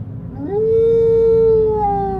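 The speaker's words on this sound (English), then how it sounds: "She lets out another howl." A long, loud howl from a dogman creature in a forest horror tale, rising into a sustained wavering tone that holds, then slides down at the end.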